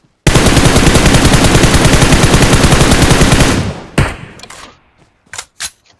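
A long, loud burst of rapid automatic gunfire rattles on for about three seconds in PUBG Mobile, then breaks off into a few scattered single shots with short gaps between them.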